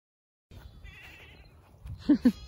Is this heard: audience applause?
no